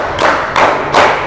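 Seventh-grade students in a classroom clap in unison for an ice-breaking counting game: three loud, evenly spaced bursts of group claps close by, with no talking.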